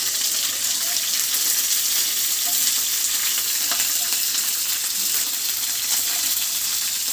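Green chillies fry in hot oil for tomato chutney, giving a steady, dense sizzle that holds at an even loudness from start to finish with no talking.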